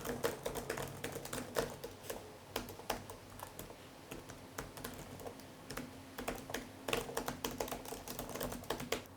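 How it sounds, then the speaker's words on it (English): Keys clatter steadily on an Acer Chromebook keyboard, a close, quiet run of uneven plastic clicks and taps with brief pauses, with no talking over it. "let's check the keyboard first"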